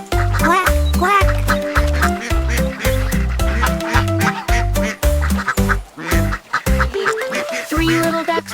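Sung quacks of a mother duck in a children's nursery rhyme, repeated in a bouncy rhythm over a loud, steady musical backing with a singing voice imitating the duck throughout.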